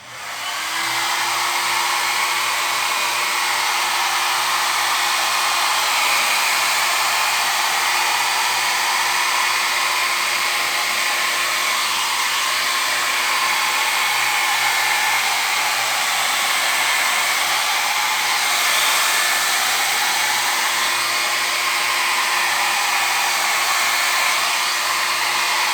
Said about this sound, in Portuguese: Nessa daí eu vou usar o secador de cabelo para vocês verem.